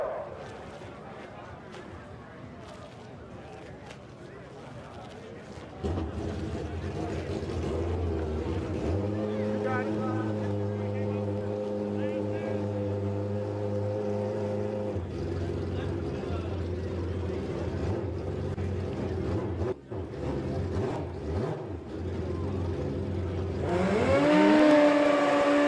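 A boat motor at a Midwest MegaFest event drones steadily and loudly from about a quarter of the way in, its humming tone climbing in pitch near the end, with voices talking over it.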